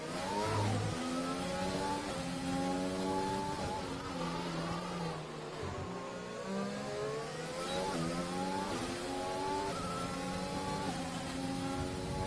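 Race car engines screaming through gear changes in a racing video game set in Azerbaijan, several high-revving engines rising and falling in pitch continuously, loud and close, with no speech over them.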